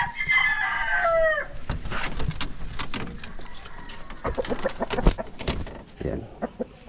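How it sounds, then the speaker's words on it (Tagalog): Chickens on a Philippine poultry project: a rooster crows loudly at the start, then hens cluck and squawk close by in a busy, uneven stream of calls, with a little talking mixed in. "Hen."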